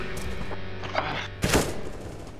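Counter-Strike: Global Offensive gameplay with AK rifle fire: a sharp report and then a louder, brief burst of shots ring out over the steady hum of the game.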